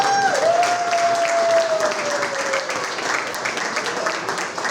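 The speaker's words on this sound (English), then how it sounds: "Let's give these inductees a round of applause," An audience at a school hall of fame ceremony claps for the inductees, a full round of steady applause filling the room, with a brief feedback whistle near the start.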